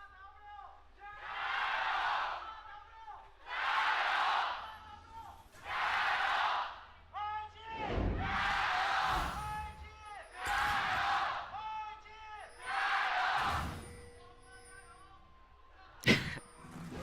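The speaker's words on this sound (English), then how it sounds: "I think that's probably the loudest crowd chant I've actually heard just straight up." Packed esports arena crowd in Shanghai at an LPL League of Legends match, chanting in loud, rhythmic bursts of about two seconds each, repeated around seven times, with a sharp thump near the end.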